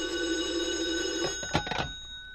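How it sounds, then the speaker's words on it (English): An old telephone bell rings indoors with a steady, sustained electric jangle, followed by a short burst of louder clattering rings. "if the phone rings, I'll answer it because it'll be for me"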